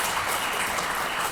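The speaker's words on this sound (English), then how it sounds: "Can I get a round of applause for that?" An audience at a talk breaks into applause, a dense, steady wash of clapping that fills the room without any voices over it.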